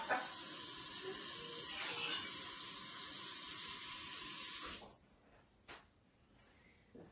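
Tap water rushes steadily into a container for several seconds, loud and close, then cuts off, leaving a few faint knocks and clatters.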